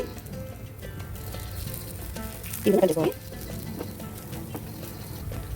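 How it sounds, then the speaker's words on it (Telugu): Sweet appam (ponganalu) fry steadily in a pan with a soft continuous sizzle, close by, and a brief louder clatter from turning them partway through; no voice is heard. "మొత్తం గోల్డెన్ బ్రౌన్ కలర్ వచ్చేంత వరకు ఫ్రై చేసుకోవాలి"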